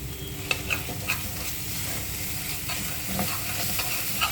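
A paste of onion, ginger-garlic and tomato frying in oil, giving a close, steady sizzle punctuated by regular clicks and scrapes of a spoon stirring the pan, with no talking.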